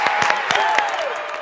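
An audience applauds and cheers for a children's cheer squad at a church kids' service, a steady burst of clapping with a few raised voices, moderately loud and close, with no one talking over it.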